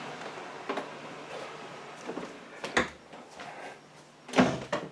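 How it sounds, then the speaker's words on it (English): An indoor door shuts with a single sharp knock near the end, after a few scattered softer bumps and handling noises in a quiet room. "Door closed."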